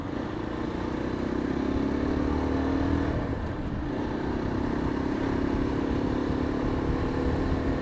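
Steady motorcycle engine drone and road rumble from a bike ride on the commute home from work, continuous and moderately loud with a slight pitch dip midway, no talk.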